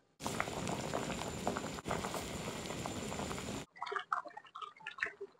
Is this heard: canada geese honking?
no